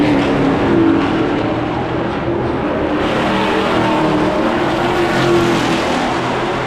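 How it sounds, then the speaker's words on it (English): V8 Supercars race around a beachside street circuit, their engines making a loud, continuous, close roar with no break and no talking. "race cars ripping around this beachside venue"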